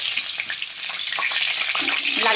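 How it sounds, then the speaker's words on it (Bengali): Diced potatoes fry in hot oil in a wok, giving a steady, dense sizzling hiss that stays loud and even throughout, with a few soft stirring scrapes and no voices. "আলুগুলোকে ভালো করে লাল করে ভেজে নেবো"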